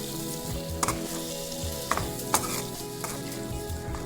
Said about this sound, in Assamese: এতিয়া আকৌ এবাৰ ধুনীয়াকৈ লৰাই দিওঁ